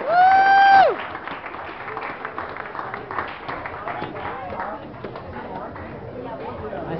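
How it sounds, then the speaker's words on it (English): Audience applause for a comedian at a stand-up show: dense, steady clapping from a crowd that follows a short electronic tone and continues with voices mixed in. "Give me one more round of applause for him."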